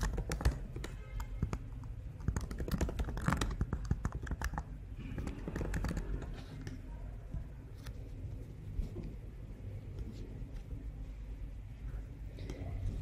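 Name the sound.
typing a name on a computer keyboard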